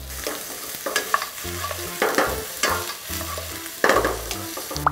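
Garlic and green onion fry in cooking oil for stir-fried webfoot octopus. The steady close sizzle is broken by repeated scraping stir bursts, with no talking.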